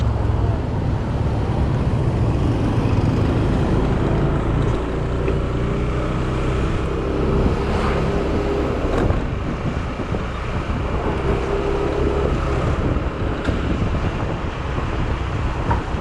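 A car drives along a rough road on the edge of a Thai city, giving a continuous low road rumble with wind buffeting the microphone, steady and loud throughout.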